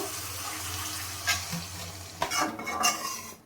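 Partly cooked masala chicken with a splash of water is stirred in a pan, a steady sizzle broken by a few sharp scraping strokes of the spoon, close and without talk.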